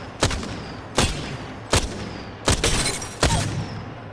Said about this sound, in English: The firing rate on the triple take.